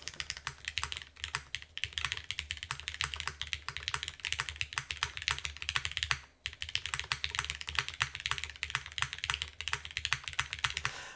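Clacky keyboard switches on a CW87 custom keyboard build, struck in a fast, steady stream of close, loud keystrokes over a low background hum.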